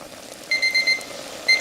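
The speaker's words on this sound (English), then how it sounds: "Our timer's going off." A kitchen timer goes off with rapid, shrill electronic beeps in short bursts, loud and close over a quiet stovetop background.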